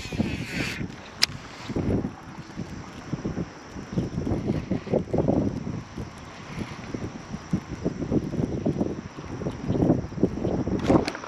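Wind gusting across a pond bank during a fishing outing, a steady broadband rush with repeated stronger gusts buffeting the microphone throughout.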